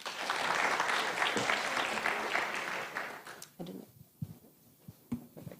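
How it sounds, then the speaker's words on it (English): An audience applauds a speaker at the Kenya EdTech Summit with a loud, steady wave of clapping that thins out after about three seconds into scattered claps and faint murmurs. "A round of applause for Jen."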